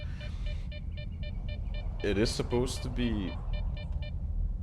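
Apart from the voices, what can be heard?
anomaly detector beeping in video game STALKER 2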